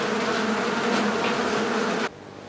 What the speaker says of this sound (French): Et puis, un joli bourdonnement nous interpelle.